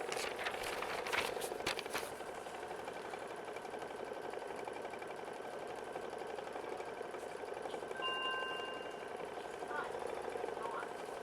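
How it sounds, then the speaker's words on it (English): An embroidery machine stitching a heavy tack-down line, running a single pass and then back over it, gives a steady rapid mechanical whir and needle chatter throughout, with a few brief clicks near the start. "It does do a pretty heavy tack down stitch, so it's gonna do a single run, and then it's gonna run back over it again as well."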